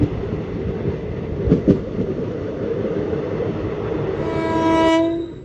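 An Udaipur City–Bikaner Express train rumbles past at steady volume, and a long, loud horn blast sounds near the end as the wagons keep rolling by.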